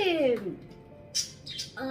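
Bird chirps and tweets ring out in short bursts over a muffled indoor background, with a voice briefly talking at the start.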